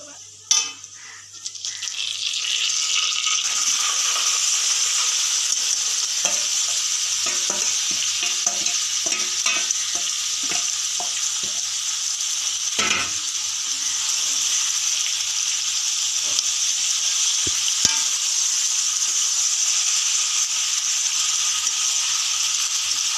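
Chicken pieces drop into a hot pan for a Bengali curry, then fry with a loud steady sizzle while a spatula scrapes and clinks against the metal in repeated stirring strokes over a long stretch.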